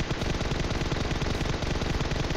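Rapid automatic gunfire in PUBG Mobile, a loud, continuous spray of evenly spaced shots close by with no pauses.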